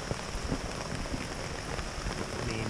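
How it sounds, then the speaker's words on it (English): Heavy rain pours down during a storm at a campsite, a dense, steady hiss of drops with scattered pattering hits, loud and continuous with no voices. "Pouring down rain."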